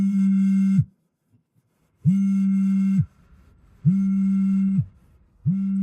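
A phone call rings out unanswered: four evenly spaced ringback tones, each just under a second long, separated by short silent gaps, clear and alone.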